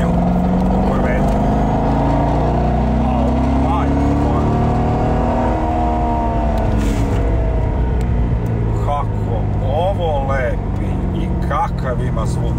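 A Corvette Z06 with a 7-litre, 505-horsepower engine roars loudly and steadily under hard driving, its deep exhaust note rising and falling in pitch as it accelerates, while people talk over the engine throughout.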